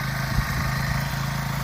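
A Honda XR150L motorcycle engine idling slightly high after warming up, a steady, close, even putter with no talk over it.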